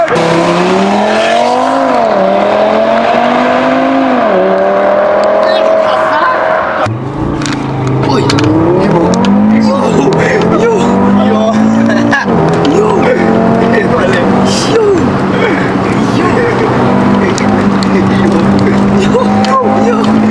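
An Audi RS sports car engine revs hard while driving on roads in Israel, rising and falling through gear changes, loud and close throughout, with voices talking over it.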